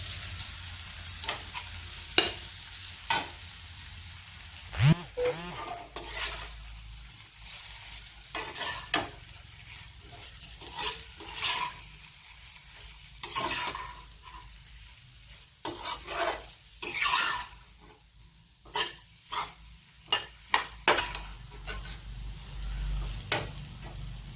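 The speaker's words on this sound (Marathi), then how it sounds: "आता उकडून घेतलेले बटाटे चिरून घेतलेले आहेत की आपण घालत आहोत" Chopped boiled potatoes sizzle as they are stirred into fried onions in a pan, with a steady fry hiss broken by repeated scraping and clinking stirs throughout.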